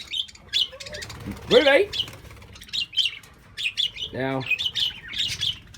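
Budgies chirping and squawking indoors, with bright repeated tweets throughout and two louder harsh squawks, while a person talks over them.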